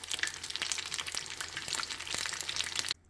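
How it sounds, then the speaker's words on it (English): Mauritian fried bread (du pain frire) deep frying in hot oil gives a steady, close, crackling sizzle with dense popping that runs without pause and then cuts off abruptly at the end. "just turn it around and then let it keep deep frying"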